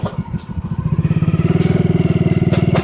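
Motorcycle pulling up and idling close by, a loud steady chugging putter with a regular pulsing beat that settles after a brief rougher rev at the start, no talking.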